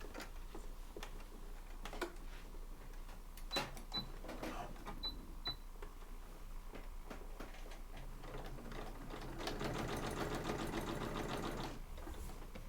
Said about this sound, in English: now I'm going to sew across this top piece